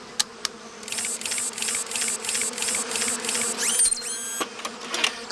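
Bees buzz in repeated pulsing bursts close by around a beehive, with a few sharp clicks and squeaky sliding sounds mixed in.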